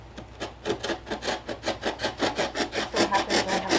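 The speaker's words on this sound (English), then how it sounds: "I'm gonna cut the flap off so you can sit in it." A blade saws through the flap of a cardboard box in quick, even back-and-forth strokes, a close, rhythmic rasping that keeps a steady pace throughout.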